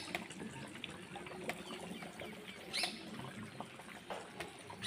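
Steady rain falls outside on an early morning, a continuous soft patter and trickle with scattered drips, moderately distant and constant throughout with no talking.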